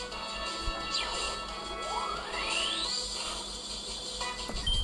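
Hydro Pump attack in the Pokémon Infinite Fusion video game: a loud crashing water-blast effect with sweeping, rising tones, ending in a sharp hit.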